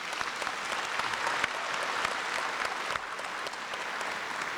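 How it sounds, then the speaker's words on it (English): A graduation audience in New Orleans applauds with steady, dense clapping that holds evenly throughout, with no voices over it. "Please let's everybody give them one more round of applause."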